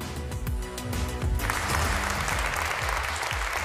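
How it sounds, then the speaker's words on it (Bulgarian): An audience at a tech talk event applauds, dense sustained clapping that starts over the end of background music and carries on steadily at close range. "Аплодисменти за Пламен Стайков!"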